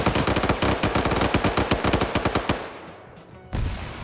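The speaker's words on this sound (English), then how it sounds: "Oh, now we got a 50 cal tearing into that building." .50 cal machine gun fire in a video game, a loud, rapid, sustained burst of heavy shots tearing into a building that stops abruptly, followed by lower rumbling gunfire.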